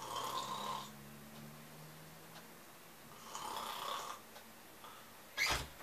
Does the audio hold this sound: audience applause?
no